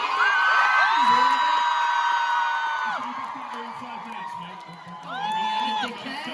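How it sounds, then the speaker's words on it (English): Fans at a singer's Q&A cheer with high-pitched screams and whoops, loud at first, easing off mid-clip, then swelling again near the end, with voices throughout. "Please, big round of applause, show us support"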